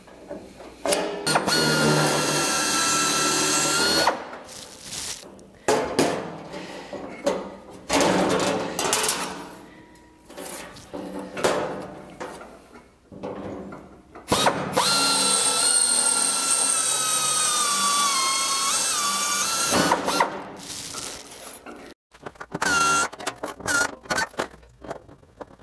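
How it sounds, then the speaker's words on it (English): A power drill whirs in repeated bursts as it bores part way into a panel toward an anchor nut, the motor whine starting and stopping with short pauses and clattering between runs. "you drill part way through and then use a backing piece inside"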